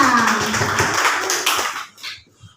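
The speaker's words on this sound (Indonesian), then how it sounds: "tepuk tangan untuk kita semua" A room of participants at a teacher training session claps together, a loud, dense burst of hands that fades out after about two seconds.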